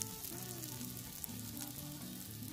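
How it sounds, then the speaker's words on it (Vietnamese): Scallion oil sizzles as freshwater mussels grill, with a steady, close frying hiss throughout and faint music underneath. "Xèo xèo xèo xèo. Mỡ hành bốc lên, xông vào mũi."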